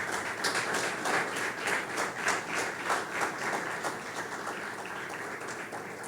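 A church congregation applauds during a sermon, sustained rhythmic clapping from many hands filling the room at moderate loudness, with faint voices mixed in.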